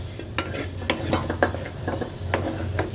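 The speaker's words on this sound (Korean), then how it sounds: "고기도 바싹 볶아줍니다." Pork for kimchi stew is stir-fried hard in a hot pan, with a steady sizzle under repeated scraping and stirring strokes close by.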